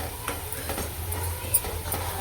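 Onion-garlic masala spices roast in a pan with a soft, steady sizzle and scraping stir strokes, fairly quiet and close, with a low hum underneath and one sharper clink near the end.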